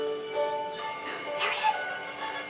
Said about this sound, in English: Listen for the alarm.